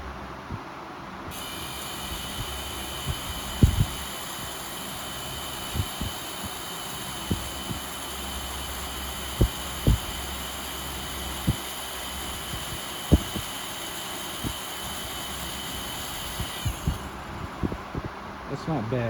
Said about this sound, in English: It's a pretty strong fan. I definitely have stronger 16-inch fans, but it's strong enough.